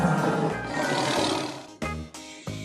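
A tiger roars close and loud, a long rumbling growl followed by two shorter, clipped roars in quick succession.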